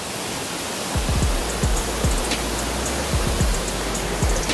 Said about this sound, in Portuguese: Cascata da Cabreia.